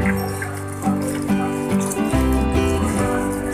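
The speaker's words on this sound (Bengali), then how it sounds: "স্পঞ্জটাকে ধুয়ে নিলাম" A sponge being rinsed under running tap water, a close, steady splashing flow with brief squeezing surges and gurgles.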